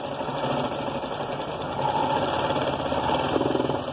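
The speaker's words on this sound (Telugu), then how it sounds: "ఇలా ఒక పాదం మనం కుట్టు వేసుకోవాలి" A sewing machine stitching blouse fabric with a boat-neck cut, running steadily at close range with a continuous rapid mechanical whirr and rhythmic needle clatter, no speech over it.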